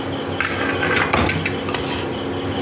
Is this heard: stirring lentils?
yes